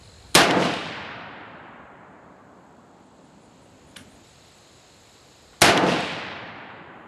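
Ruger No. 1 single-shot rifle chambered in .303 British, with a new barrel being broken in: two loud, sharp reports about five seconds apart, each fading in a long echoing tail, and a faint click between them.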